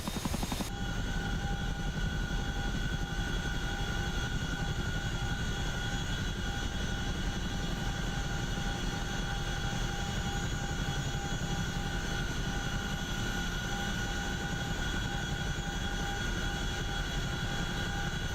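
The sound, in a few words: CH-47 Chinook helicopter taxiing in the video game DCS World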